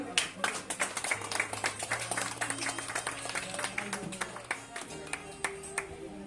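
Guests at a 50th wedding anniversary gathering applaud the couple, many hands clapping at once in a steady patter that softens toward the end while a voice speaks faintly beneath it.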